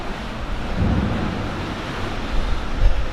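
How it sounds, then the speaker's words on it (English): Ocean surf churns and splashes at Thor's Well, a constant broadband wash of whitewater with heavier surges and low wind rumble, loud and close, with no voices. "It's just constant waves and whitewater and splashes"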